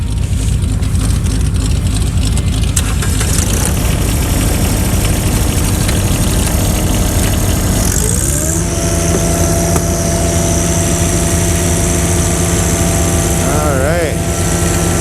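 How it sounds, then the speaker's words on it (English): A John Deere engine cranks and catches around the midpoint, then settles into a steady, fairly loud idle with a low rumble, while background noise carries on throughout. "let's fire up the John Deere."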